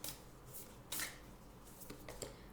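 Moonology oracle cards being shuffled and drawn for a Capricorn tarot reading, giving a few soft papery riffles and flicks at close range, with no talk.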